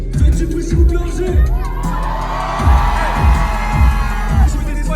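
A packed concert crowd at Le Chabada in Angers roars and shouts for the rapper, loud and close, while a heavy bass beat thumps in a steady rhythm underneath.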